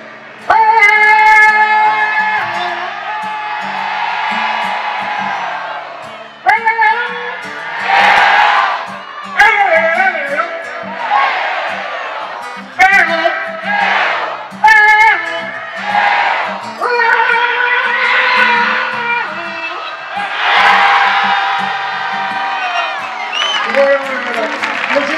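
A crowd at a town festival proclamation in Fuenlabrada, Spain, shouts in unison in repeated loud bursts, answering a leader's calls, with cheers and whoops between the chants.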